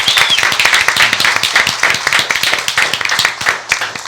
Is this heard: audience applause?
yes